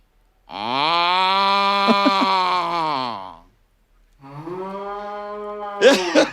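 A domestic buffalo gives two long, close, loud moos, the first drawn out for about three seconds and the second shorter, followed by a brief rustling noise.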